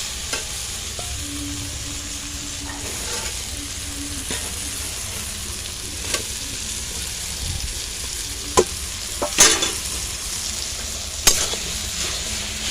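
Spices sizzle steadily in hot oil in a pan for Bengali ghugni, with a continuous close frying hiss broken by occasional sharp stirring scrapes and clinks.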